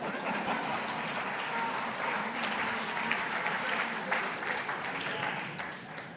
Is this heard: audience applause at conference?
yes